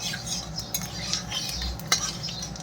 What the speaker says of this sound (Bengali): তেলটা গরম হয়ে গিয়েছে, এখন দিয়ে দিচ্ছি এই যে মশলাগুলো। মশলাটা ভালো করে ফোড়ন করে নিই